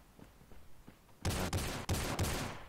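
Gunfire in the battle-royale shooter Rules of Survival: after a quiet stretch with faint distant shots, a loud close burst of rapid shots erupts and continues in several sustained volleys with brief gaps.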